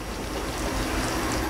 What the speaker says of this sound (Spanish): Ya está hirviendo.